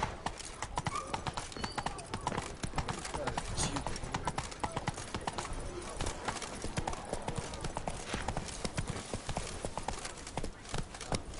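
Galloping horse hooves in The Witcher 3 pound in a rapid, continuous clip-clop over faint game ambience, with a speaking voice in the mix.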